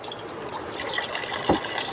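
Water runs steadily over a diamond lapping plate, rinsing it clean, with a broad continuous splash and gush close by and a brief lower gurgle near the end.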